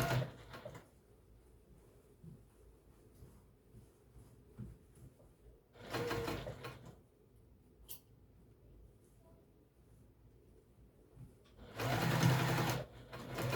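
Sewing machine stitching tulle onto a vintage-style apron skirt, running in three short bursts of rapid needle chatter separated by quiet pauses, close and clear with no talking.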